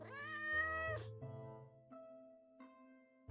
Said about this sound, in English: I like the meow sound effect.